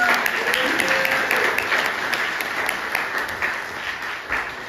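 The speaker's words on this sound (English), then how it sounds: "Round of applause." Crowd applause and clapping at an outdoor Pride event as a guest speaker comes up, a dense, loud wash of hands that holds steady and then slowly fades, with faint voices mixed in.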